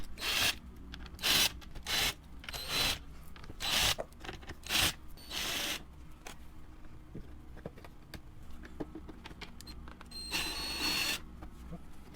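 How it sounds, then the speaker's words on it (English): Screws being backed out of the bumper grille on an ND Mazda MX-5 Miata, giving bursts of ratcheting clicks and rubbing mechanical sounds in short repeated spells, close up with quiet pauses between. "So the first step is, again, to get all of those screws out and pop the grille out from the bumper here."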